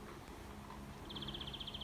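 A small bird chirps in a tree outdoors on a summer day, giving a quick run of about a dozen rapid high chirps, faint and distant against a low background hum.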